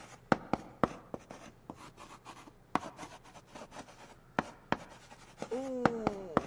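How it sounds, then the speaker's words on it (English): Chalk tapping and scraping across a board in short, irregular strokes, with sharp clicks spaced through the clip and a brief voice-like tone near the end. "is the sound of chalk."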